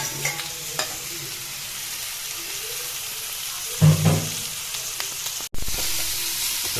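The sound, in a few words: stirring pork frying in a pan without oil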